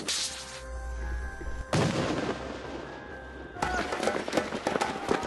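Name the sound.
assault rifle and rocket-propelled grenade fire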